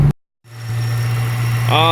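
A supercharged 1998 Mustang Cobra V8 with a Kenne Bell blower and an exhaust leak cuts out briefly, then settles into a steady, loud, close engine drone, with a rising whine climbing in at the end.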